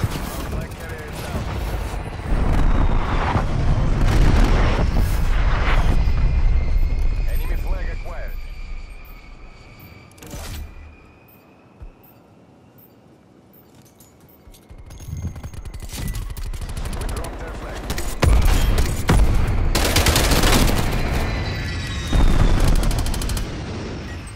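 Loud video game battle full of missile launches, explosions and gunfire, with roaring booms and aircraft-like whooshes that fade to a brief lull before erupting again, while someone talks over the din.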